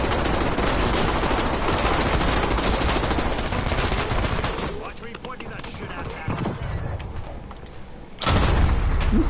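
Gunfire in the video game Warzone crackles in dense, rapid automatic bursts for several seconds, then thins to scattered shots before another loud burst erupts.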